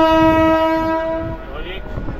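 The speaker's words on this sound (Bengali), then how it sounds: "এই মুহূর্তে আমি আছি খন্নান স্টেশনে, আর এইটা হচ্ছে স্টেশন।" Train at Khannan railway station on the Kolkata to Bardhaman line, a loud close horn blast holding steady for over a second before fading into rumbling rail noise.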